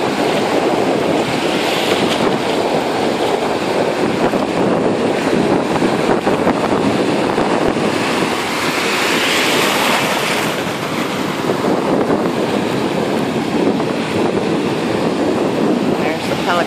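Ocean surf rolls in steadily with wind buffeting the microphone, a loud continuous wash of waves and gusts with no break throughout.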